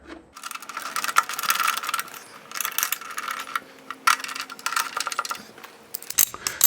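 A bracket being bolted onto a passenger seat backrest with a 1/8 inch spacer under the front, heard as close metallic clicking, rattling and small knocks of hardware and tools in uneven bursts, with no one speaking.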